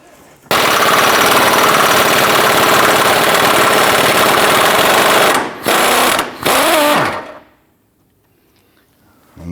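A socket wrench with a 17mm socket and extensions loosens an engine mount bolt on a 2009-2015 Honda Pilot, making a loud, close, continuous mechanical rattle for several seconds with two brief pauses before it stops.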